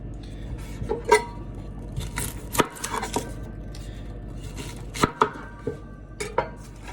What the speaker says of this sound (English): if you're cutting a bunch of onions